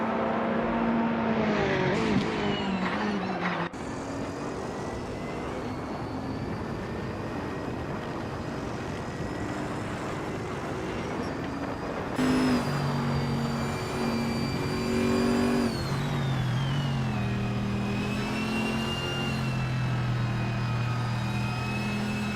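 A 2006 Audi A4 B7 race car's engine in a racing video game whines and roars through gear changes, its pitch climbing and dropping repeatedly over a continuous drone of other cars on track.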